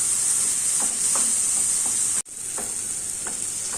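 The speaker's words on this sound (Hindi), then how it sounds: "टमाटर को नरम होने तक पकाएंगे।" Finely chopped tomatoes sizzle and fry steadily in a pan for an Afghani omelette, with a few soft stirring scrapes and a brief break in the hiss partway through.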